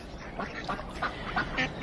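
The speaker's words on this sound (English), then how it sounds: "And here are the ducks coming up for the remains of our sandwiches." Ducks quack repeatedly near a spot where people have been eating sandwiches in Oxford, several short nasal calls spaced through the moment, close and clear over a quiet outdoor background.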